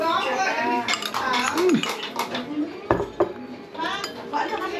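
Plates, dishes and cutlery clink and clatter at a home birthday meal, with bright, irregular knocks and chimes scattered under people chatting nearby.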